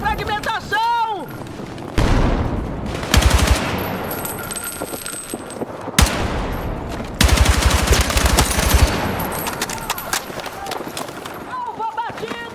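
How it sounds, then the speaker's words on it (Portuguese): A fragmentation grenade bursts amid rapid bursts of gunfire in the Priston Tale game, loud and close, with several sharp explosions and rattling volleys. "Granada de fragmentação!"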